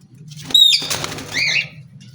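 Parrots take off with a loud burst of wing flapping, followed by a squawking call and a rustle of wings, fairly close against a low background rumble.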